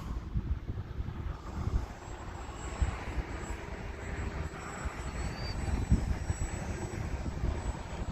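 A Hobbyzone Aeroscout S 1.1m RC airplane flies in gusty wind, its steady motor drone continuous over a broad wash of wind noise for the whole stretch, with no voices.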